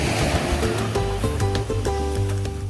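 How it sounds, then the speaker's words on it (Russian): Sea surf washes onto a beach at Kemer in Turkey in the evening, a continuous broad rushing wash with steady low roar, while a faint tonal hum or music runs underneath. "Можно пройтись вдоль кромки воды, послушать шум волн и крики чаек."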